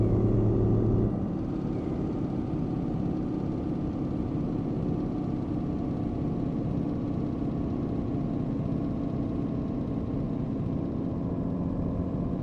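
Truck and surrounding traffic engine sounds from the video game On The Road on PS5: a continuous low engine rumble and drone, steady and unbroken throughout, with no talking.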